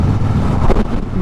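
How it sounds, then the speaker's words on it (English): A loud, broad rush of wind from a passing lorry buffets the microphone on a Triumph Speedmaster motorcycle for about a second, a roaring gust over steady low road rumble. "The wind hit off that lorry was insane."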